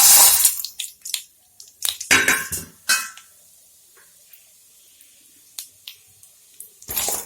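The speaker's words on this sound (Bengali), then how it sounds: "আমি ম্যাগিগুলো ঢেলে দেবো।" Maggi noodles tip into a pan of hot ghee, setting off loud bursts of crackling and sizzling spatter up close that settle into scattered small pops and quieter stretches before flaring again.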